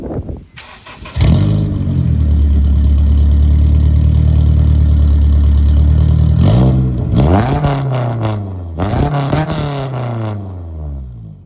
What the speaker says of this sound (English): Now I'm gonna show you what the new exhaust sounds like.